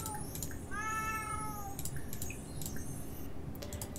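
A cat in The Sims 4 lets out a drawn-out meow over steady game background sounds, with a few soft clicks and chimes scattered around it.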